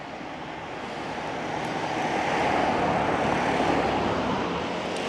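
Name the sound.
drone flying overhead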